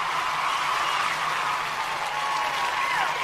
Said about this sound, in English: You can all stop clapping now.